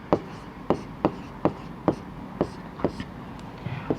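A pen or chalk writes out a maths solution in short, rhythmic strokes, roughly a tap every half second, close and distinct against a quiet room.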